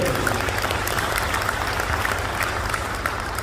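A network marketing seminar audience claps loudly and continuously, dense applause filling the room without a break.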